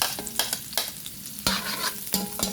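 Onion and garlic sauté in a pan for mussel tinola, a continuous close sizzle broken by repeated scraping stirs every half second or so, loud and without talk.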